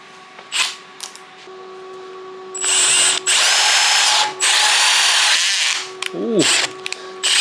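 A power drill in a workshop during a 1977 Harley-Davidson FXE Shovelhead rebuild whines in several bursts of one to two seconds each, loud and close, with ratcheting clicks between runs.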